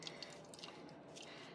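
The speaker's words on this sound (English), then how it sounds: "Now we're gonna dip it in our non-soapy water, squeezing it out over the soapy water." Felted wool dipped in water and squeezed out over a basin of soapy water while making a felted acorn, giving soft, faint dripping and squishing trickles close by.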